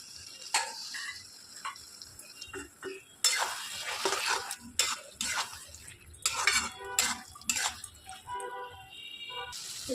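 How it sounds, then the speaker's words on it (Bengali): Fried potatoes and boiled chickpeas tipped into a pan, then stirred with a utensil that scrapes and clatters against the metal in irregular bursts over a faint sizzle, close up with no talking. "এবারে যে আলুটা ভেজে রেখেছি ওটা দিয়ে দেবো। এরপরে কাবলি ছোলা সেদ্ধ করে রেখেছি ওইটা দিয়ে দেবো।"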